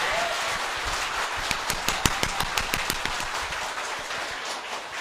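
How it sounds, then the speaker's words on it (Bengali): A Bengali stage event where a speaker asks the audience to clap loudly; an audience answers with a burst of sharp claps that peaks after two seconds, then settles into steady crowd applause over a constant room hum. "এবার জোরে হাততালি"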